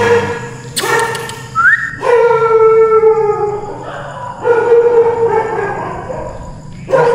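A dog howls in long, wavering tones at a mansion in Laguna, several drawn-out cries with short pauses between, loud and close, over faint background noise.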